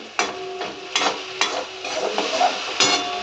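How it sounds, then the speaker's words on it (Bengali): Bori (sun-dried lentil dumplings) sautéed with panch phoron and spices in a pan: a steady sizzle broken by repeated scraping stirs about every half second, close and moderately loud, with no talking. "বড়ি পাঁচফোড়ন আর মশলা দিয়ে কষে নিয়ে"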